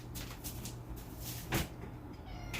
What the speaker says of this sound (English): My cat is whining in the background because I shut the door.